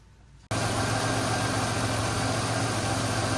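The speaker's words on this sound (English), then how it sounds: "So I'm going to start the engine, and then let's hear it" After a brief quiet moment, a 2005 Chevy Equinox engine abruptly starts and settles into a steady, loud idle with a low humming rumble.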